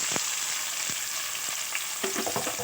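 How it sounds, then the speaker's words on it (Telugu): Mustard seeds, cumin and chopped onion frying in a couple of spoons of oil in a cooker, a steady close sizzle with scattered pops and stirring scrapes, no voices. "ఇప్పుడు దాంట్లో కొంచెం ఆవాలు, కొంచెం జీలకర్ర, కట్ చేసిన ఆనియన్ వేస్తున్నాను."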